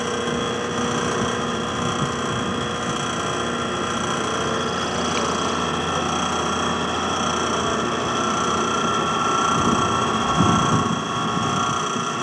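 Siren rotator motor from a home siren collection, running alone with the rotator only engaged, giving a steady close mechanical whir and hum with a faint rattle throughout.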